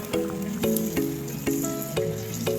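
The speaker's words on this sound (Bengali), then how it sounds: "এবার নেড়ে চেড়ে ভালো করে মিশিয়ে নেব।" Chickpea paste being stirred into frying masala in a metal pan, with a steady sizzle under evenly spaced, ringing clanks of the spoon against the pan about every half second.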